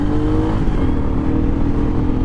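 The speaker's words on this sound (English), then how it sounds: "As you see there, the bike picks up like crazy." A Royal Enfield Meteor 350 motorcycle accelerates hard on the road, its engine a loud, steady low drone heard close from the saddle, with no talk over it.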